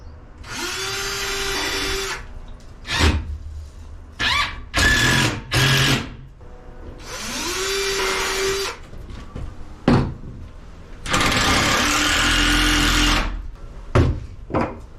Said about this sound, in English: I'm gonna pre-drill these holes before I put the screws in, that way the wood's not splitting